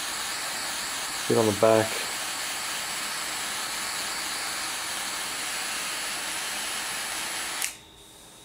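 A gas torch flame shrinking heat shrink tubing over a soldered wire joint, a steady roaring hiss held for several seconds before cutting off abruptly, with a brief spoken phrase near the start.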